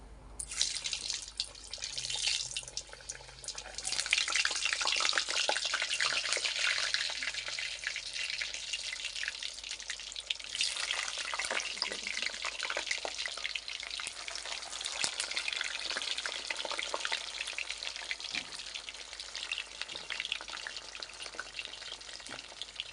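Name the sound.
potatoes frying in hot oil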